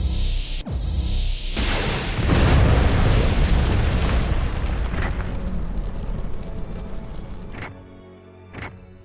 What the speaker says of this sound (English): Cannon is fully charged and ready on your mark.